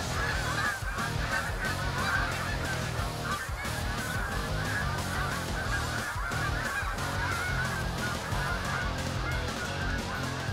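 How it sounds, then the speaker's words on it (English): A large flock of geese honks continuously from a distance, the overlapping calls forming a dense, steady clamor with no talking. "We hear birds off in a distance"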